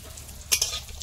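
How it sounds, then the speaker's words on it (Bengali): Bori lentil dumplings fry in a pan with a brief, soft sizzle and a short hissing burst midway, close by and faint overall. "খুব বেশি লাল করে ভাজবো না"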